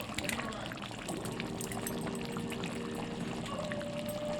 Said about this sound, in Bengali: সামান্য জল দিয়ে ঢেকে দিচ্ছি